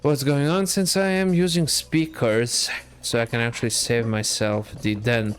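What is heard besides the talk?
None of the usual background noises is heard.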